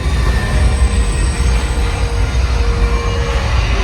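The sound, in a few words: runaway subway train effect, studio tour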